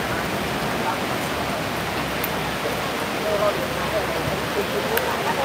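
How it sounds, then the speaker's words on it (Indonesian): Heavy rain pouring down on a windy street in Guangzhou, Southern China, a steady dense hiss of falling water, loud and unbroken throughout. "Hujan gede banget."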